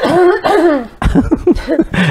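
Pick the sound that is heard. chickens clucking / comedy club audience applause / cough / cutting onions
cough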